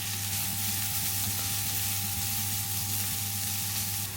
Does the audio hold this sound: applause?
no